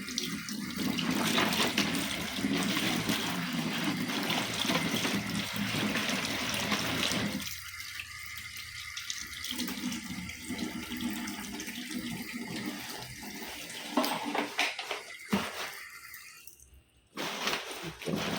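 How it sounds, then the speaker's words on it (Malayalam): Water poured into a container to soak old bags: a continuous close rushing pour that breaks off briefly midway and again near the end. "എന്നിട്ട് കുറച്ച് വെള്ളം കുറച്ച് ഒഴിക്കാം. ഇത് മുങ്ങണ്ടേ."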